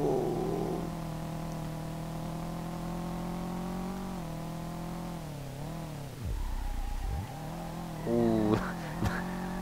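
A Subaru Impreza rally car engine in the racing game SLRR hums at a steady pitch, dips low as it slows, then revs back up with quick gear-like steps toward the end.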